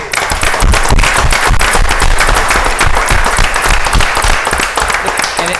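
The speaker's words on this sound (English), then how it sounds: "we should give a round of applause to all the directors" Loud, close applause for the directors at a board of trustees meeting, a dense, energetic burst of many hands clapping at once, sustained without pause.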